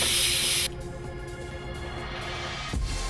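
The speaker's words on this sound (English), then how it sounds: "Spray it into the paper towel." Alcohol sprayed into a paper towel at a barbershop: a loud hissing burst for just over half a second, followed by a quieter steady background hum and a brief soft thud.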